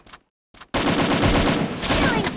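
Rapid automatic gunfire from the Free Fire video game, a dense burst after a couple of short shots and a brief silence, close and loud.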